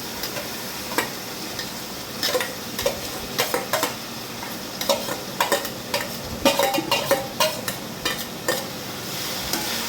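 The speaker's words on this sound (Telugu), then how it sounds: "వేసాక శుభ్రంగా పైకి కిందకి కలుపుకుని దాన్ని అడుగు నుంచి పోపు వేసాం కదండి, పోపు అంతా కలిసేలా కలుపుకొని" A spoon stirs chopped banana flower curry with tamarind tempering in a pan, scraping and clinking against the metal in an irregular run of close, moderately loud strokes, with no voices.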